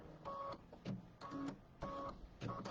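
An embroidery machine stitches batting down onto a zipper bag, producing quiet repeated mechanical bursts of whirring and clicking at a steady rhythm, about four cycles close by.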